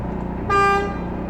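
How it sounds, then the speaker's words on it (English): One brief honk from a truck's city horn, a clear steady tone lasting about half a second over a low engine rumble. "City horn."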